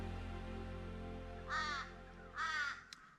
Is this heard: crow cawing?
yes